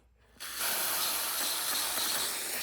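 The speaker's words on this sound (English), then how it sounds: "Just spray the heck out of it and clean it." Spray cleaner blasts onto the engine of a Triumph T140V motorcycle, a loud, continuous hissing aerosol jet that starts abruptly after a brief silence and holds steady close up without talking.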